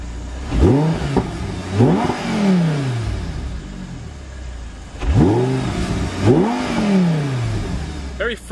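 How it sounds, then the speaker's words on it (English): A 2012 Audi R8 Spyder with a 5.2 FSI V10 revs hard twice, each blip climbing quickly and falling away. A person speaks briefly over the engine, which sounds close and loud. "Very freely revving engine, picks up quick through the RPMs."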